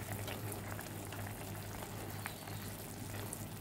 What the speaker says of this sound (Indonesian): Kacau perlahan-lahan sehingga mendidih.